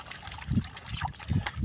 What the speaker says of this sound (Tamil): செருப்பெல்லாம் சேரு. அதான் கழுவலாம்ட்டு கழுவிட்டு இருக்கிறேன்.